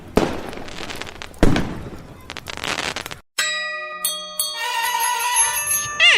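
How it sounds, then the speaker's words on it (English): Fireworks at an autumn festival display: loud crackling bursts early on, then whistling, ringing tonal fizzes and pops layered together, sustained and fairly close. "setting off in massive, impressive firework displays"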